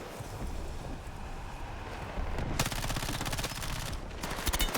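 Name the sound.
gunfire in Battlefield 6 video game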